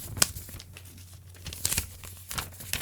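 Paper crumpled and stuffed against a microphone: close, crackling crinkles and tearing rustles in uneven bursts, louder spikes at the start and end with quieter handling between.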